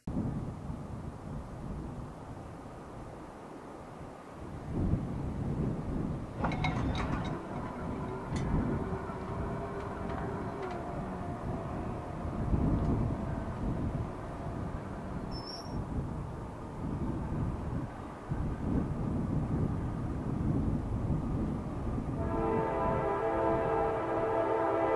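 A train rumbles past a road crossing, a steady loud broadband roar throughout with clanking bursts midway and a sustained horn-like tone near the end.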